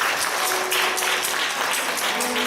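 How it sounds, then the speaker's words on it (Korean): A church congregation at a Sunday worship service applauds together, a brief burst of steady clapping from many hands filling the room. "박수 한번 하실까요?"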